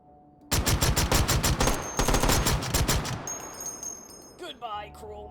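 Two rapid strings of loud automatic gunfire from a weapon in the VR shooter game H3VR, followed by a metallic ringing tail and a short voice near the end.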